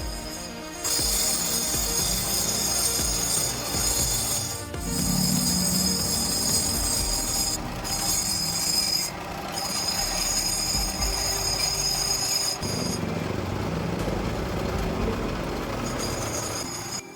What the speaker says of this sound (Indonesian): Lanjut kita gosok ke gurinda yang lebih halus ukuran 800.